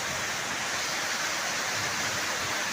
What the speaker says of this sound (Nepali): यता पानी पनि ठुलो परिरहेछ है